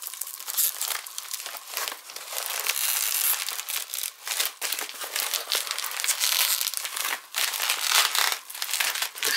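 Stiff packaging crinkles and crumples continuously up close as a wireless keyboard is unpacked, with irregular bursts of crushing and rustling throughout.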